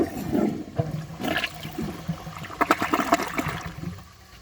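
A 2004 Crane Sureflush toilet flushes with a rushing swirl of water that turns to gurgling and trickling, close and loud, fading toward the end with no talking.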